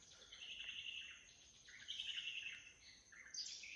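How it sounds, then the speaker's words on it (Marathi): Morning birdsong in a quiet rural setting, with several high chirping calls and trills overlapping in sequence, faint and distant without any voices. "पक्ष्यांचा वगैरे आवाज बघा"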